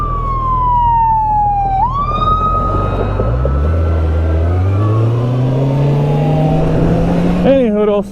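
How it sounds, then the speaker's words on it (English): An ambulance siren comes up behind a motorcycle, a loud wailing tone sliding downward and shifting pitch as it nears, while the motorcycle's engine drones and rises underneath. "there's an ambulance or something coming up behind me"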